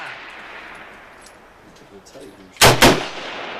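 Two sharp, loud shots from a Hungarian AMD 65 rifle during outdoor target shooting, fired close together near the end after quiet background with faint voices.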